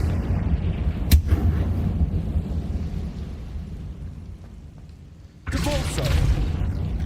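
A sharp blast from the Confringo explosive spell in the video game Hogwarts Legacy, one short crack followed by rumbling effects, with a second burst of noise near the end under a faint voice.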